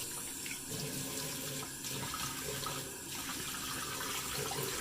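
A bathroom tap runs steadily into a sink as the face is wetted before a wet shave, a continuous close rushing of water with slight shifts as hands move through the stream.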